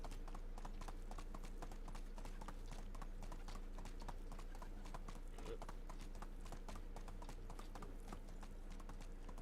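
Horse hooves clip-clop steadily at a riding pace in Medieval Dynasty, a quick even rhythm of soft knocks over a constant low hum, with faint talk underneath.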